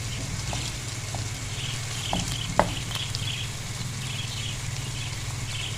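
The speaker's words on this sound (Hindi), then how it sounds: "अब प्याज को भूनते भूनते हम इसमें मसाले ऐड करेंगे, अचारी मसाले।" Onions fry in oil with achari pickle spices such as mustard seeds and fenugreek seeds, giving a steady, even sizzle throughout, with a few faint pops and a soft clink near the middle. No voices are heard.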